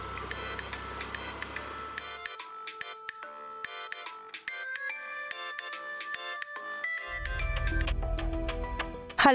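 A telephone ringtone plays for an incoming call from a bank, a melodic electronic tune of repeating tones, loud and clear with a deeper musical swell near the end.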